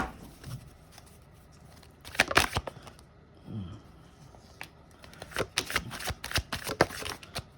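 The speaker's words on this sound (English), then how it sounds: "You can just get 3 more cards here." Tarot cards are shuffled and drawn close up. Papery riffles and crisp snapping flicks come in clusters, with quieter shuffling and sliding between the louder bursts.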